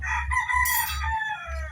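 Chickens and roosters crowing and clucking close by on a farm at feeding time, with repeated crows over a low steady rumble.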